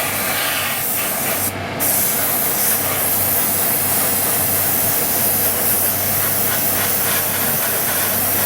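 Tamiya paint sprayed straight onto a Revell Imperial Shuttle model kit with no primer: a loud, continuous close airbrush-style hiss, broken by one brief pause near the start.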